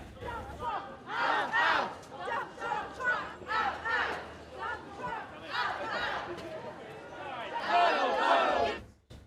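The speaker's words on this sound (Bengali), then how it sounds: "এ সময় স্লোগানে মার্কিন প্রেসিডেন্টকে বিদায়ের দাবি জানান আন্দোলনকারীরা।" Protesters during Trump's UK visit chant slogans demanding his departure, a crowd of voices shouting in repeated rhythmic bursts for several seconds, fairly loud and close.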